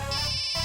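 A mobile phone rings with an incoming call, a bright electronic ringtone melody playing continuously in a short burst.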